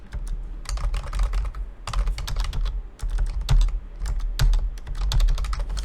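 Rapid keystrokes clack on a computer keyboard in uneven bursts with brief pauses, close and clear, with no talking over the typing.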